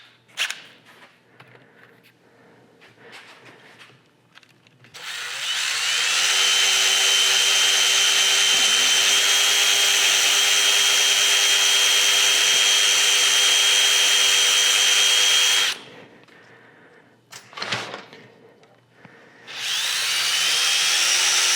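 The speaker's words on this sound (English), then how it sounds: "put in a DeWalt drill bit as a comparison test" A DeWalt drill bit bores steadily into metal in an LS engine thread-repair job, a loud continuous whine lasting about ten seconds, stopping, then starting again after brief clatter.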